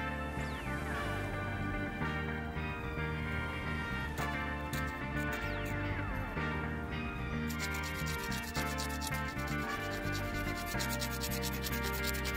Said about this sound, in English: So start scraping on it a little bit here and see what we can do.